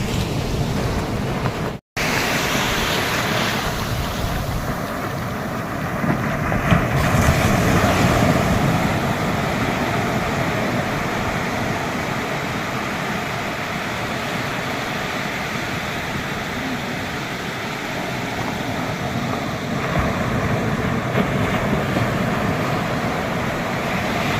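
Waves at Benaulim Beach in South Goa roar as a dense, continuous surf wash, loud and close with wind noise on the microphone, running unbroken apart from one brief dropout near the start.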